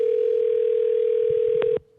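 A telephone ringback tone plays while a call goes out. It is one loud, steady tone that holds for nearly two seconds, then cuts off abruptly, leaving near silence.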